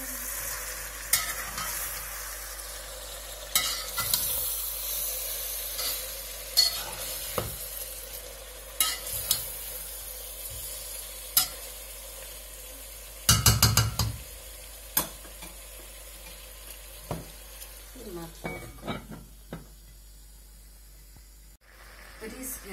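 Plov ingredients, including carrot, stirred in a frying pot: a soft sizzle runs underneath while a utensil clicks and scrapes against the pot, with one louder clattering burst midway and the frying dropping away near the end.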